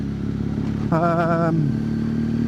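A BMW GS motorcycle engine drones steadily throughout, with a brief higher whine and a voice briefly audible over the running motor.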